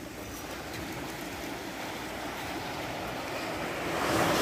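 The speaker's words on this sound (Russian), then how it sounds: "гляньте, тут тоже есть волна небольшая" Black Sea surf rolling onto an Odesa beach, a steady close wash of broken water with wind rumble, swelling louder at the end, no voices.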